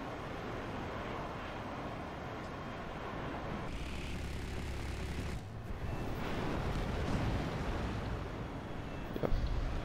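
Heavy explosive rumble and roar as an F-105D jet strikes and destroys an anti-aircraft emplacement in the War Thunder air battle game, with continuous loud engine noise throughout and a deeper blast midway.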